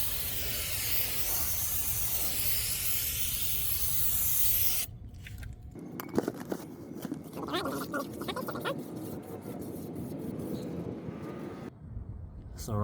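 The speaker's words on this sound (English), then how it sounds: "we are going to use some brake clean to clean it" Brake cleaner sprays in a long, loud, steady hiss onto a brake rotor from a 2014 Ford Focus, followed by shorter bursts, rubbing and handling noises, with someone talking during the work.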